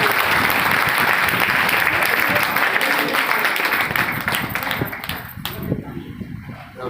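An audience at a business achievers' event bursts into loud, dense applause for a guest speaker, sustained for several seconds before thinning out, with a voice briefly heard near the end.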